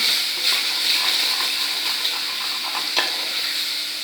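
Mushrooms sizzling in a pan as they soften and release water, with a constant frying hiss and a few scraping stirs of the spoon, close up and with no talking.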